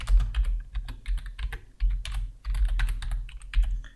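Keys clatter on a computer keyboard as an SQL query is entered, bursts of quick taps separated by short pauses, close and clear with no talk.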